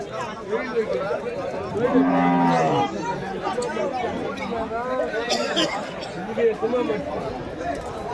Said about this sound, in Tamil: மாடு மட்டும் நான் காட்டுறேன் பாருங்கள்.